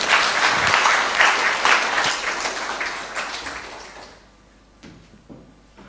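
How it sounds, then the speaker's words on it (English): Audience applause at an official launch event for prosecution guidelines in Kenya, a loud burst of clapping from a crowd in a hall that gradually fades out over several seconds. "Can we please have a round of applause for him?"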